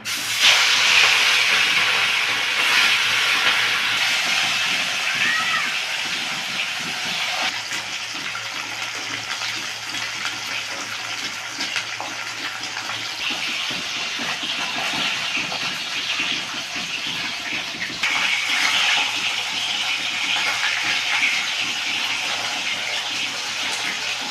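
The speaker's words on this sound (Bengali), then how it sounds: "তেল গরম হয়ে গেছে এবার মাছগুলোকে ছেড়ে দেবো" Pieces of rohu fish fry in hot oil in a kadai with a continuous, close, hissing sizzle that holds steady throughout and swells slightly near the start and again later.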